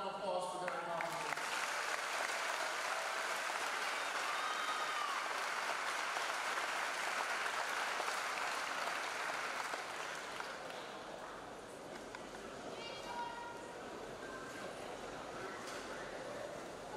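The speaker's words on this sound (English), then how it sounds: "Got one more round of applause for their accomplishments." Audience applause at a school day event honoring two students, a sustained, dense wash of clapping that holds loud for about ten seconds, then eases slightly and continues at a lower level to the end.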